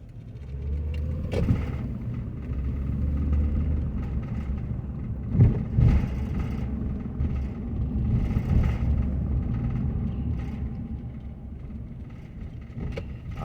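A car drives along a residential street in Anderson, Indiana, its steady low engine and road rumble continuous throughout, with a few brief louder bumps midway and no talking.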